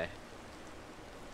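Rain in Minecraft falls as a faint, steady hiss of static-like patter, with no clear drops standing out.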